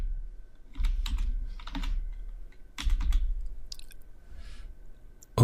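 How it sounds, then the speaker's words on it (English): Computer keyboard typing a short command, a few quick bursts of key taps close to the microphone, separated by brief pauses, with no voice. "You would type in npm space"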